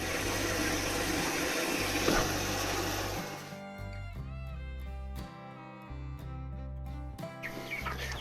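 Water pours in a steady rushing stream into a chicken waterer on a Maine farm, then breaks off, leaving quiet gaps with sparse bird chirps close by.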